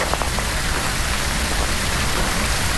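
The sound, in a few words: rain in video game Phasmophobia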